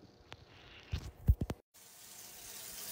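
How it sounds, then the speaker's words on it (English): Hot water runs from a tap into a cup, a steady hiss that follows a few knocks and clatters, close and moderately quiet. "Fill a cup or container with hot water."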